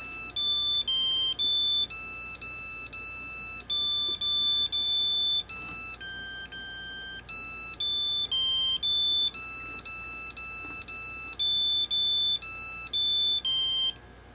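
An old PC's internal speaker plays a simple melody of electronic beeps note by note, shrill square-wave tones with brief gaps between phrases, steady and fairly loud throughout.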